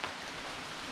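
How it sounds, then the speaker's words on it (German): Rain falls steadily during a hike along a trail, a dense even hiss of drops with no pauses, close and uniform. "Es regnet nun schon ungefähr eine Viertelstunde."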